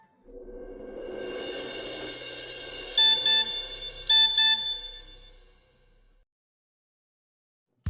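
A short two-part electronic notification chime plays twice in close succession on a mobile phone in a Hindi devotional TV drama, standing out clearly over a soft musical background.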